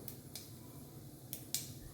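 Mustard seeds pop in hot coconut oil while tempering a dal fry, giving a few sparse, sharp little cracks spaced irregularly over a faint low background hum.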